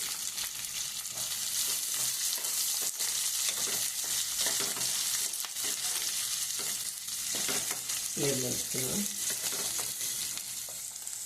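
Curry leaves frying in hot oil for tamarind rice, giving a dense, continuous sizzle with crackling and some stirring, close and steady throughout without speech.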